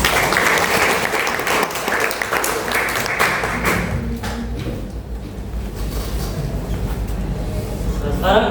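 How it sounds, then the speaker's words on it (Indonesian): A classroom of students applauds together in steady, dense clapping that carries on for several seconds, thinning briefly midway before picking up again, with faint voices mixed in. "mari kita tepuk tangan semuanya"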